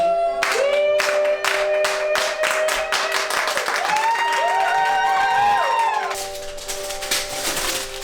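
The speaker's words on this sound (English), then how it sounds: "Can we just slow clap for Nikki Z and the team?" Wedding guests clap together in a slow, steady rhythm, with sustained tonal music running underneath and the claps fading out near the end.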